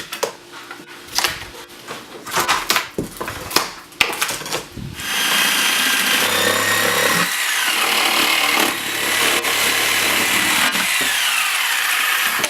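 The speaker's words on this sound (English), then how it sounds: "This allows the installer to cut around the window frame and release the old window from the studs." A power tool saws around an old window frame during a retrofit window replacement. It starts with scattered knocks and rubbing, then a loud, sustained cutting drone runs steadily through the rest.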